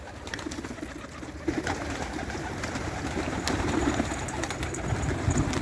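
Soft cooing of a pigeon or dove sounds faintly over a noisy, rustling outdoor background.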